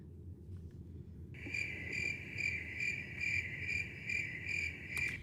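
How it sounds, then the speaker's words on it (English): Steady cricket chirping starts after a brief quiet moment and continues in a regular pulsing rhythm, close and clear over a low background hum, with no voices. "Hold on, I need a cricket sound."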